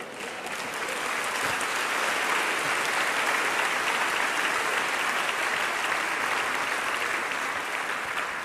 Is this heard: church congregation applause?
yes